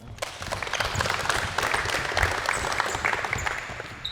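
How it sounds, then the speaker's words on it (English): An audience claps in sustained applause at a 2021 BTAS x NBL Blitz basketball coaches clinic, a dense, even roar of many hands that holds steady and fairly loud for about four seconds. "Give them a round of applause."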